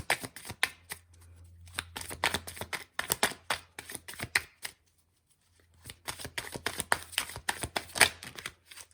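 Tarot cards being shuffled and drawn by hand, close and crisp, with rapid riffling bursts and flicks broken by a short pause midway, no voice.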